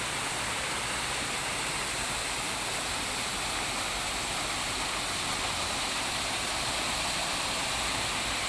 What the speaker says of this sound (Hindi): नैनीताल जाते हुए हाईवे पे आपको इस तरह के बहुत सारे झरने मिलते हैं